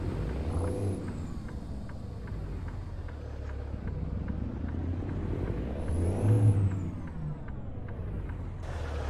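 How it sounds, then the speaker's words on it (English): A truck's air brakes release in American Truck Simulator, with two sharp pneumatic hisses standing out over the steady low idle of the diesel engine, the second hiss slightly louder. "I gotta take the brakes off,"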